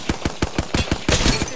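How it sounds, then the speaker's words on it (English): Rapid bursts of gunfire in a battle royale video game, about a dozen sharp shots in an uneven rhythm that thickens into a denser volley near the end, loud and close with no talking. "They're shooting at me."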